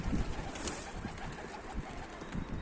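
Soft pigeon coos repeat a few times against a faint, noisy background. No one speaks.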